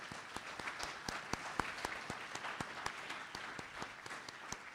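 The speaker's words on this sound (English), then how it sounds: "Let's give Brooke a round of applause." An audience at a Minoru Yasui Day event applauds, a sparse round of distinct claps from a modest crowd heard at a distance, steady throughout with no speech over it.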